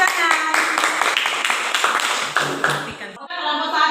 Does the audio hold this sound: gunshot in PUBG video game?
no